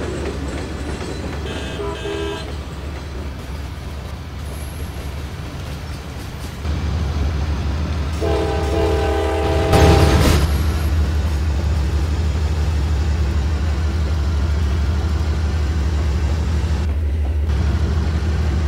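A Norfolk Southern coal train rumbles along in the Trainz railroad simulator, its low engine drone building midway, with a loud horn blast around the middle and steady rolling noise throughout.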